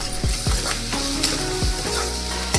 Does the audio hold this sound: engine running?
no